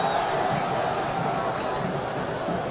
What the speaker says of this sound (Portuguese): A torcida gostou.